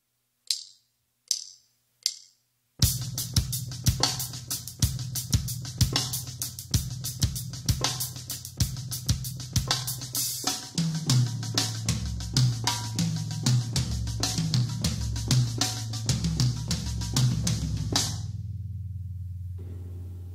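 After a few stick clicks counting in, a full drum kit plays a 3/4 groove for four bars, then runs a phrased sticking pattern across the toms and snare with crashing cymbals, loud and close, ending in a fading ring.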